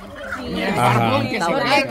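A turkey (chompipe) gobbles in a rapid warbling burst, fairly close and loud, with a person's voice mixed in around it.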